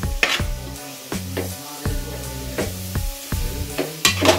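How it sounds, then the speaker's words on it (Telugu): Jaggery and coconut powder cook on high flame in a pan, sizzling under repeated scraping strokes of a spoon in a steady rhythm, close and fairly loud. "హై ఫ్లేమ్లో మనకు బెల్లం అయితే కరుగుతుంది."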